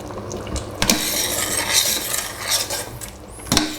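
A spoon stirs thyme into a lamb shank base in a pot, with scraping and clinking of metal against the pot and a few sharp knocks, close and moderately loud.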